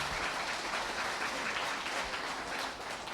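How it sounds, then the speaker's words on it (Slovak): An audience at a Christmas concert claps steadily for kindergarten children from Križná after their Snowman performance, a dense, even wash of applause throughout with no talking. "Takže potlesk pre decká z Križnej."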